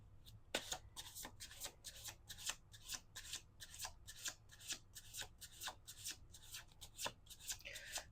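Tarot cards being shuffled quietly up close, a rapid series of crisp riffling flutters in quick, uneven bursts with no voices.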